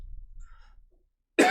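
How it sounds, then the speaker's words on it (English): A single sharp, loud cough bursts out near the end, after faint low rumble and near silence, with no talk. "Sorry for the cough, here is so cold here for real."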